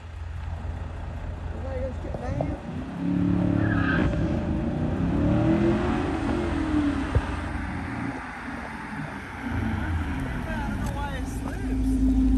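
A C6 Corvette Z06 spins out at a late-night downtown car wash cruise, with loud engine revving and rising tire squeal over a steady roar, amid crowd chatter and shouting nearby.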